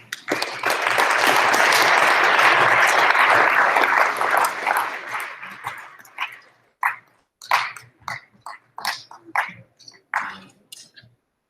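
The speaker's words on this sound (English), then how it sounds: "Another round of applause." An audience at a company training session breaks into loud, dense applause for about six seconds, then it thins to scattered individual claps that fade out.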